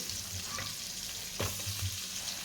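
Butter melting and sizzling in a pan with a spoonful of oil as the base for butter chicken, a soft, steady close frying hiss with faint stirring.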